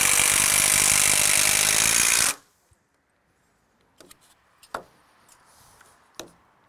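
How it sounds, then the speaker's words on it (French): A power screwdriver drives screws into wooden beams while a garage kit is assembled: a loud steady whir for about two seconds stops abruptly, then sparse close clicks and knocks of handling follow in near silence. "Je vais visser les poutres."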